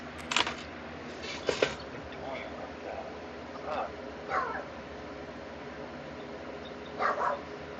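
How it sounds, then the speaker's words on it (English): A small Yorkie yaps in short bursts, a few quick sharp barks early on and again near the end, faint and somewhat distant under low background hum, with brief voices between. "Is that a little dog? Yeah, it's a fucking Yorkie."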